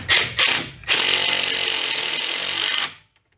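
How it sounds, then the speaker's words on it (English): A 12 mm bolt on a Subaru Outback quick-strut is run in with a power tool: two short bursts, then a loud, steady whirring ratchet for about two seconds, stopping abruptly. "on the other side where this loop is, I'm going to put that 12 mil bolt back in"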